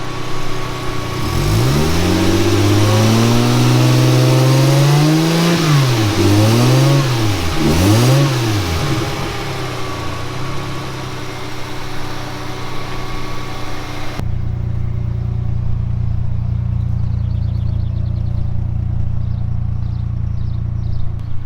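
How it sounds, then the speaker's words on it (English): A Toyota Supra with a 1JZ engine cranks and fires up, then revs in several rising and falling sweeps before settling to a steady idle, loud and close with no talking. "Fires right up. Motor sounds healthy."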